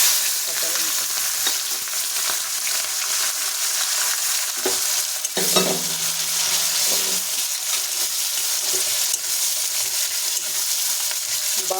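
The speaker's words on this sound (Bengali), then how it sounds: "তেল গরম হয়ে গেছে, দিয়ে দেবো কালো জিরে, দিয়ে দেবো পেঁয়াজ কুচি, কাঁচা লঙ্কা" Black cumin seeds, chopped onion and green chili hit hot oil with a steady, loud sizzle and crackle throughout, broken by brief stirring scrapes near the middle.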